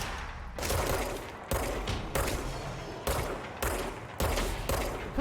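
Pistol shots from the video game Control come in quick succession, about six loud reports roughly a second apart, each with a heavy, reverberant tail that blends into dense combat noise.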